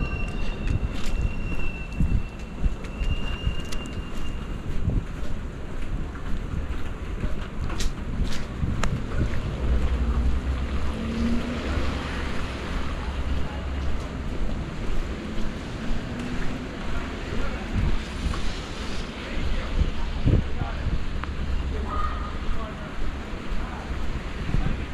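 Wind gusts roar steadily across a cold, rainy New York City street, buffeting the microphone in a continuous loud rush for the whole stretch, with faint scattered background sounds beneath.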